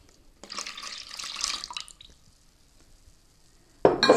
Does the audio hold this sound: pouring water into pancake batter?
yes